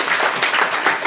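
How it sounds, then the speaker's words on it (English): Audience at a school debate gathering breaking into loud, close applause, a dense burst of many hands clapping with slight surges in intensity. "A round of applause, please."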